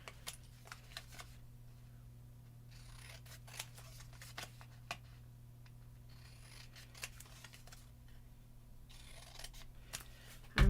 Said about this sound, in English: use bigger scissors because it'll go faster